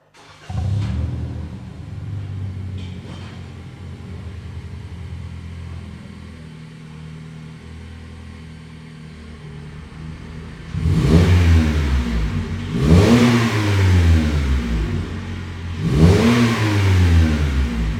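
A Toyota Corolla E210 sedan fitted with a Borla S-type catback exhaust starts and idles, then gives three loud, sweeping revs that rise and fall in quick succession, close by and with no voices.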